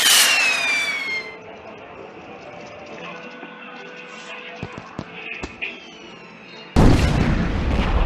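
A rocket-style firework sound effect in an animated Mulan story whistles and fizzles, with scattered pops and crackles, then erupts into a loud, sustained explosive blast at the end.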